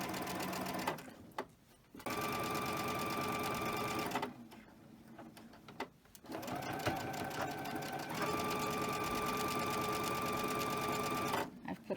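Sewing machine stitching cotton fabric, running in steady whirring bursts with short pauses between seams, close and clear with no talking.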